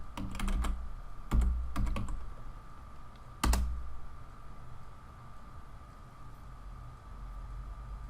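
A computer keyboard is tapped in a few short bursts of clicks, with a brief cluster near the start, two more quick runs, and one last sharp keystroke, all set over a quiet steady room hum.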